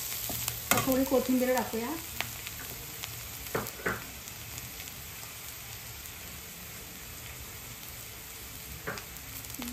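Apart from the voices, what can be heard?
vegetables being sautéed in a pan for veg manchurian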